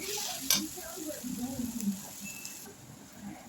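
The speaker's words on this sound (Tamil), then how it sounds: "இப்போ இந்த மாதிரி நல்லா வதக்கி விட்டு வெங்காயம் தக்காளி வந்து ரொம்பலாம் மசிய வேக வேக வேண்டாம்" Onions and tomatoes sauté in a pan for capsicum egg rice, giving a light, moderate sizzle with a few stirring clinks under a person talking.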